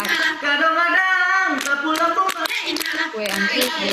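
Dancers perform a traditional dance with sharp hand claps over sung or chanted voices, the claps landing in a loose rhythm against the melody.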